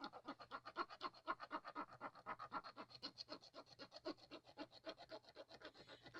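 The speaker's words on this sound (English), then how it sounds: "I'm going to rub this whole thing." Steady rhythmic rubbing over a Halloween journal cover, quiet close scraping strokes repeated back and forth at an even pace, with no other sounds.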